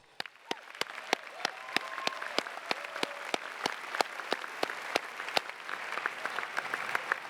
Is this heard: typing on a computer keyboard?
no